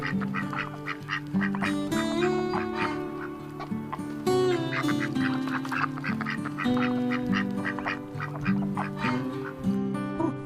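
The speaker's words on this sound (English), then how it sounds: "This is duck." A duck quacking loudly and close, repeated nasal quacks in an uneven, continuous run with several overlapping calls throughout.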